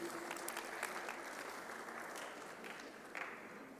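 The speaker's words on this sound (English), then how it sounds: "Let's give him another round of applause," Conference audience in Bloemfontein clapping for a speaker, a continuous, fairly soft patter of many hands heard from across the hall, with a few sharper claps near the end.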